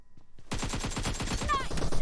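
Rapid automatic gunfire from PUBG Mobile team deathmatch rattles in a dense, continuous burst after a brief quiet start, loud and close with a few sharp game effect tones layered in.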